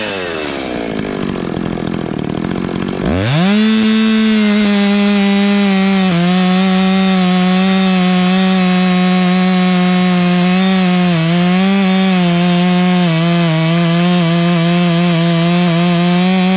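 CS-590 chainsaw fitted with a modified billet muffler, starting at idle, then revving up sharply into a loud, sustained, rasping high-pitched whine as it cuts through wood, with slight dips in pitch under load and no talk.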